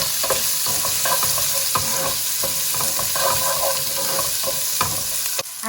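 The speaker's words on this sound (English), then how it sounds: "in the oil goes a teaspoon of cumin seeds, and then goes in the onions, and I'm just going to cook this for 6 to 8 minutes" Cumin seeds and onions sizzling steadily in hot oil in a pan for a carrot courgette masala dal, with scattered stirring clatter over a continuous bright crackle and no talking.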